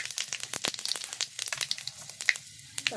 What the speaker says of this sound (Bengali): শুকনো লঙ্কাগুলো একটু লাল লাল করে ভেজে নেব। ওর মধ্যে দেব ফোড়ন,